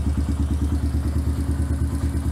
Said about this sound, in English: Cold start on this bike. Starts right up.